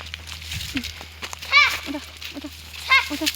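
Goats bleat several times at close range, short wavering calls spread across the moment, with faint rustling and movement around them.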